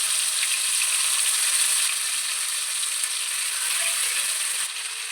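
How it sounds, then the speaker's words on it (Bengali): Fish pieces fry in hot mustard oil in a wok, making a steady, fairly loud hiss of sizzling that barely changes across the clip, with no voices. "তেল গরম হয়ে গেছে। এবার মাছগুলো একটা একটা করে দিয়ে দেবো"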